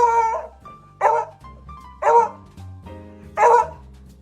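A heavy-set pet dog gives four loud, close barks about a second apart, with soft whiny yips and whimpers filling the gaps between them.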